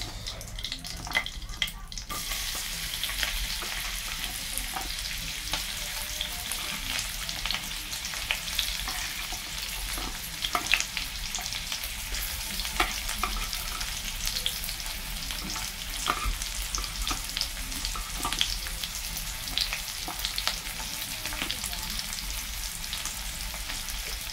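Onions fry in a pan for corned beef with potatoes, a steady close sizzle with scattered crackles and pops that runs for a long stretch, with faint watery splashes at times.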